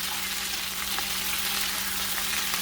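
Chicken pieces for chicken adobo fry in a pan with a steady, even hiss and crackle, close and constant throughout, with a few faint pops and no one talking.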